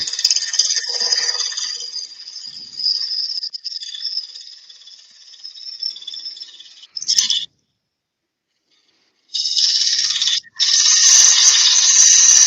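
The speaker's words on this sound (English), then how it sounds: "Look at that gouge eating through that wood." A wood carving gouge shaves through wood in a steady, close, raspy scrape that runs for several seconds, drops out into a silent gap, then resumes loudly.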